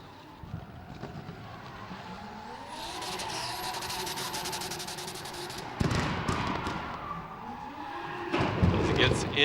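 A drift car slides sideways at the Red Bull Car Park Drift final in Kuwait, 2017. The engine revs rise and fall, tires squeal and screech, and loud bursts and crowd noise come through the outdoor wind.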